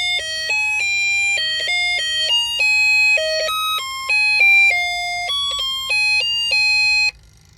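A Snap Circuits burglar alarm sounds loudly and close, a bright electronic beeping melody of rapidly alternating pitched tones that runs steadily for about seven seconds before cutting off, with no voices.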